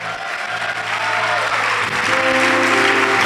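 A church congregation breaks into loud applause during a sermon, many hands clapping in a dense continuous wash, with a faint sustained tone underneath that shifts partway through.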